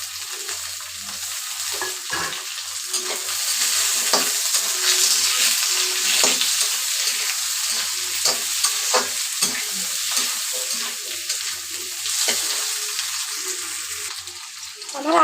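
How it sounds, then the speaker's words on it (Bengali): Potatoes frying in a pan of oil with onion and green chili, a steady loud sizzle with frequent stirring scrapes and clinks running throughout, no talk. "এবার আমি আলুগুলো দিয়ে ভেজে নেব।"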